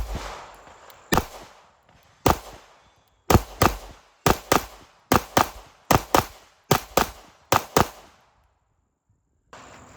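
A compensated Platypus pistol fires about fourteen sharp, loud gunshots, some singly and some in quick pairs or triplets, each followed by a short echo. The volley ends in a brief silence before one more shot.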